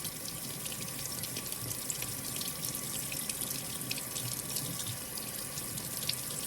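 Tap water runs steadily over a piece of glass etched with Armor Etch cream as it is rinsed clean in a sink, a continuous close splashing hiss with faint drips and no voices.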